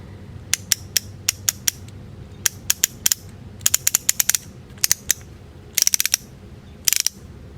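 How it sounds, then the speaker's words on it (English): Ratchet mechanism of a Felo screwdriver clicking close up in short bursts of sharp, crisp ticks, with pauses between runs of two to six clicks. "Ratchet mechanism, this is the big one."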